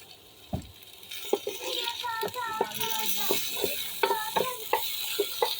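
Garlic and potatoes frying in oil in a pan, with a soft steady sizzle and repeated scraping clicks of stirring, partly under speech.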